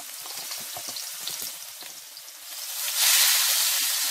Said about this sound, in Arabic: هديها تشويحة سريعة